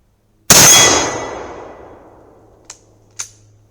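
A Mosin Nagant 1891/30 rifle fires a single loud, sharp report at 100 yards that rings away in a long decaying tail, followed by two faint, brief metallic pings from a distant steel target.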